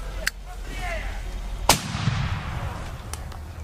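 A sharp airsoft gunshot cracks out early during an airsoft game, then a second, louder shot rings out and echoes away over a low background rumble.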